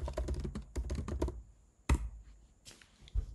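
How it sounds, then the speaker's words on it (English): Someone types a reply on a computer keyboard, bursts of quick close key taps with a pause in the middle and a few final strokes, no talking. "I'm also going to reply to Peter so that he knows that I'm working on it."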